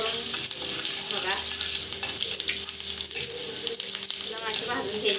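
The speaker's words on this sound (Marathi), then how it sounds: "माझी भाजून घ्यायची मिरची" Green chilies roasting and sizzling in a pan for masala Maggi, a loud continuous crackling fry with stirring and occasional spoon scrapes, close up with no talking.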